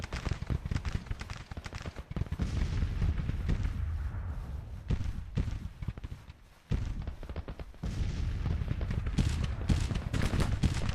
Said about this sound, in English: that was a nice volley of 250 casualties, an initial volley against the enemy